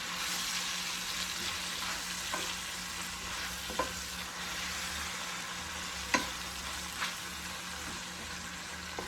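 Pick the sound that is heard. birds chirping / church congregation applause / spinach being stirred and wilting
spinach being stirred and wilting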